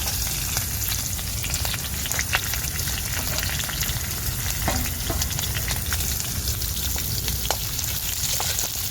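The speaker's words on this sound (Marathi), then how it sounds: "तर आता मी कांदा परतून घेते आणि कांदा आता ना थोडा लाल होऊ तर मी परतून घेणार आहे" Chopped onion and finely cut green chillies sizzle and fry in hot oil with garlic, a steady close crackling hiss with a few stirring scrapes throughout, with no talk.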